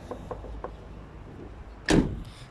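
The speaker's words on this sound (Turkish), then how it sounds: "Kapıyı kapattım." A car door shut with a single solid thud near the end, preceded by a few small mechanical clicks over low background noise.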